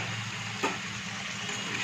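Fried chicken pieces and chopped green chillies sizzling in a pan for chilli chicken, a steady close hiss of frying oil with one brief stir or clink partway through.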